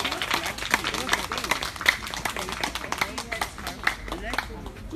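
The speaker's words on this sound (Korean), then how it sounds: "다시 한 번 박수 한 번 보내드리면 감사드니다" An audience claps for a volunteer musician after a talent-donation performance at a flea market in the Banpo Jugong 1 apartment complex, a dense, continuous patter of hands with talk and crowd voices running underneath.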